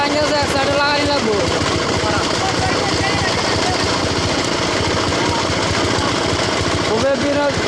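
A trawler boat engine with a broken propeller runs loudly and continuously, a rough steady chugging throbbing through the whole stretch, with voices mixed in over it.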